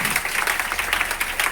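An indoor audience claps for a teacher, a close, continuous patter of many hands at an even, lively level.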